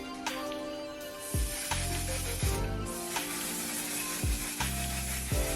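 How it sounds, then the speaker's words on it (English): A One Size Until Dawn setting spray misted onto a face in several short, sharp hissing pumps, close and fairly loud, each burst separated by a brief pause. "now we're ready to spray our face with a setting spray, and I'm going to use my One Size Until Dawn setting spray"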